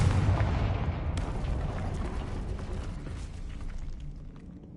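A Confringo blasting spell goes off in Hogwarts Legacy, a loud booming burst that rolls into a long rumbling decay, with a second sharp crack about a second in, alone with no talk.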